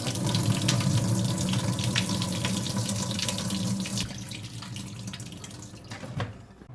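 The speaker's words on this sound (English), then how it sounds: "you want to tilt it and pour that water back out" Water poured from a stock pot after rinsing vegetables for chow chow relish, a steady running splash that lasts throughout, loud at first and thinning toward the end, with no voices.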